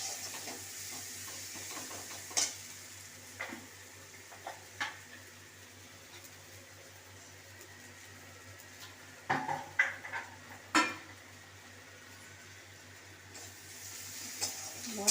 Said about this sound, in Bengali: দিয়ে মশলাটাকে আমি একটু কষাবো